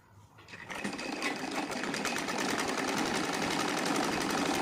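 A sewing machine stitches saree silk fabric in a steady, rapid mechanical whir that starts after a short pause and runs on at an even pace, close and alone.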